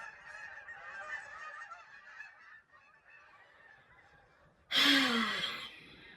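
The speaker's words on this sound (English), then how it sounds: "the geese." Geese honking, with softer overlapping calls first and then one loud, close, harsh honk near the end.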